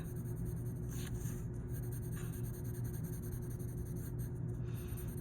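Colored pencil scratches across paper while shading a sphere with firm pressure in the lightest color, a continuous close rubbing texture with no talk.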